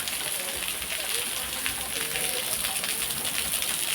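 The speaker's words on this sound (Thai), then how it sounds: "ก็ฝนตกนะคะ ตกมาแล้วก็เย็นชื่นฉ่ำนะคะ" Rain falls steadily at a Thai cave temple, an unbroken, wide hiss of droplets striking the ground and nearby surfaces, fairly close and even in level, with no pauses over several seconds.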